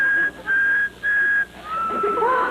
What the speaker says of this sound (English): this tea kettle is practically whistling the opening movement of Beethoven's Fifth